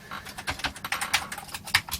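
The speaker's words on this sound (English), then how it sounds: "Let's see now if the keyboard indeed works." Keys pressed on a Commodore C16/Plus4 home computer keyboard during a repair check: a quick, irregular run of light plastic clicks and taps, close and fairly soft, with no talking.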